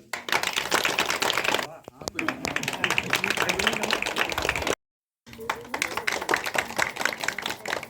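Villagers clap loudly to welcome a young woman from Uttarakhand honoured after the Republic Day parade, a dense, sustained burst of applause with a brief cut partway through.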